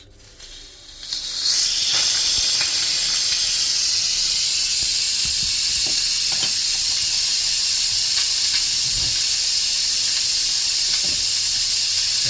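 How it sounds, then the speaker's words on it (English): Steam blasts from the pressure release valve of an Instant Pot as it is switched from seal to vent, a loud, steady, close hiss that rises in the first second or two and then holds without pause. "see over here where it says vent, seal. We'll just pop it."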